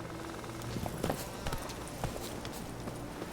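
Geralt's horse Roach from The Witcher 3 gallops at a steady pace, with rhythmic hoof clip-clops repeating for a few seconds over a constant game background.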